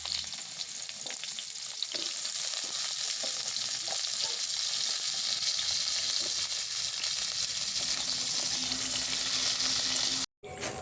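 Moringa drumsticks sizzle steadily in hot mustard oil in a kadai, a dense, even frying hiss that holds loud and close throughout, with a brief dropout near the end.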